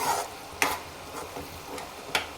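Tomato curry cooking on a stove over a low to medium flame, with a quiet bubbling sizzle and a few sharp scraping stirs at intervals.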